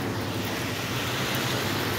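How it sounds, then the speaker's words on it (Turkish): Sewer water flowing steadily into a basement on a residential street in Andijan region, a constant broad rushing wash with no pauses. "Su akıp."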